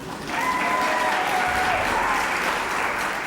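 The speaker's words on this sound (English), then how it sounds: "you can clap for them one more time" A crowd applauds elementary school cheerleaders at a school district awards evening: a steady, full wash of clapping, fairly loud and even, with a few faint whistle-like tones above it.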